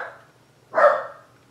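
A dog gives a single sharp bark near a house at night, close and fairly loud after a short fading sound, with quiet around it.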